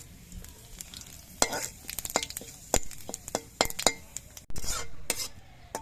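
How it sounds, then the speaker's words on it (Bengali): Bay leaf and whole cumin frying in hot oil in a pan: soft steady sizzle broken by frequent sharp metallic clinks and scrapes of a spoon stirring against the vessel, close and uneven. "তেজপাতাটা একটু ভাজা হয়ে যাওয়ার পর এর মধ্যে দিচ্ছি অল্প করে একটু গোটা জিরে"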